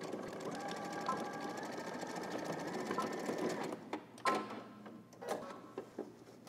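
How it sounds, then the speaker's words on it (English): A sewing machine runs steadily for several seconds while stitching a men's garment from a Simplicity pattern, then stops and gives a few short bursts of back-and-forth zigzag stitches securing the top of a pocket opening. "I go to the very top and then with a couple of zigzag stitches I just secure it"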